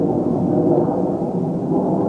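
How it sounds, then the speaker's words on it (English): Aeroplanes pass above a house and garden, a steady low broadband roar that stays constant and moderately loud throughout, with no voices. "the aeroplanes have decided to come and play above the house"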